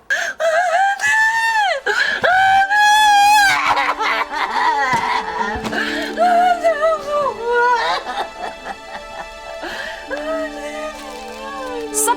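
A distressed 48-year-old woman screams and shrieks in grief over her missing grandchild, piercing high cries repeated loudly with sustained shrill wails and sobbing bursts throughout.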